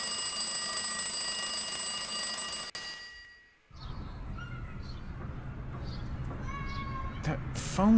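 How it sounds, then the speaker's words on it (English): An alarm clock rings in The X-Files Game with a continuous, shrill electronic trill that cuts off abruptly partway through. Quieter background sounds and faint chirps follow. "oh, that's the alarm clock"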